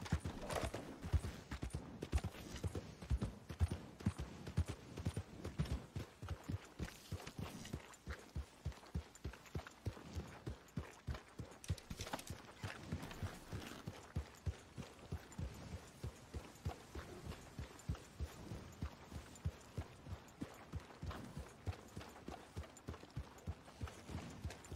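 Steady clip-clop of horse hooves trotting in an even rhythm in Red Dead Redemption 2, close and moderately loud, continuing without pause and with no voices.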